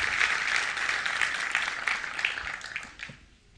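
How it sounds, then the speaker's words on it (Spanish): A church congregation applauds together in a moderate, fairly distant wash of clapping that gradually thins and fades away. "Dele un aplauso a Dios."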